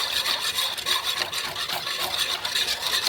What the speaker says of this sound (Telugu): ఇలా పిండి గట్టిగా అయ్యే వరకు మనము కలుపుతూనే ఉండాలండి